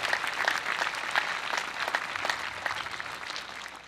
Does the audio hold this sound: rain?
no